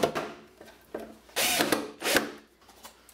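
A power drill drives a screw into a wood surface during a vintage Coca-Cola bottle opener build, heard as several short whirring bursts close by, with the longest two near the end, separated by brief pauses.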